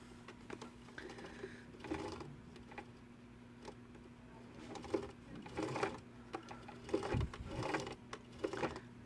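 A mechanical sewing machine runs slowly, its take-up lever and check spring working the upper thread, giving a soft, uneven ticking and whirring that stays close and fairly quiet, with a steady low hum running beneath it.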